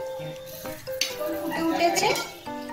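Dried chillies and Kashmiri chilli powder stirred in a pan, a brief scraping and clattering under a speaking voice.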